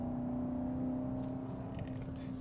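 A heavy BMW X7 M60i SUV with a V8 engine cornering on a tight bend, a steady low engine drone with a constant whining tone, heard from inside the cabin at moderate level.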